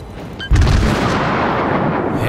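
Warship main guns fire in a World of Warships naval battle, with a single heavy boom landing about halfway through and a long rumbling roar trailing after it. No one talks.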